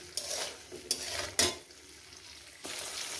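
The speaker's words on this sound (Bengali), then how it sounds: "দিয়ে একটু সুন্দর করে আমি ভেজে নেব" Onions frying in a pan for a country-style mutton curry, a soft sizzle with a few distinct scrapes and clinks of a spatula stirring, close by but quiet.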